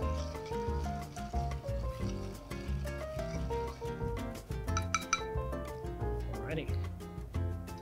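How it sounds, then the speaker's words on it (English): Ice clinks and rattles against a glass as a cocktail is stirred, light repeated tinkling over background music, with a person talking. "I'm going to give this a nice stir."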